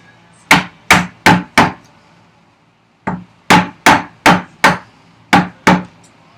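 Chisel struck with a mallet to chop a 9/16-inch-deep housing dado in a wooden workbench vise chop: loud, sharp, close blows in quick groups of four, a short pause, then two more groups.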